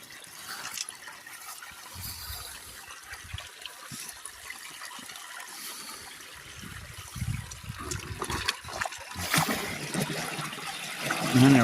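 Water from a farm pond drains out through a pipe that has just been opened, a steady rushing trickle that swells louder toward the end.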